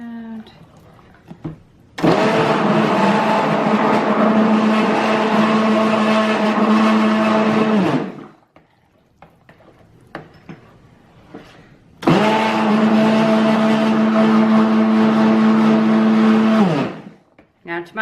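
Cold process soap batter mixed with kale and clay using a stick blender, which whirs loudly in two long steady bursts of about six and five seconds, separated by a quiet pause with faint handling sounds.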